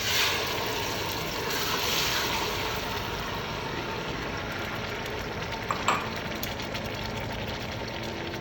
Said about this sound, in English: Heat the oil and add onion and fry the onion until golden brown. Add blended tomatoes.